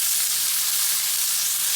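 T-bone steak searing in a hot pan, a loud, steady, dense sizzle with a bright hiss that holds unbroken throughout, close up and alone.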